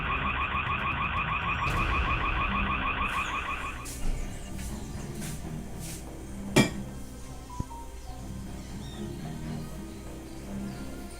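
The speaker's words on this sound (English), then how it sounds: "activated the alarm" A rapid, pulsing electronic burglar alarm in a store wails for about four seconds, then cuts off, leaving a quiet room with a few faint clicks and a sharp knock.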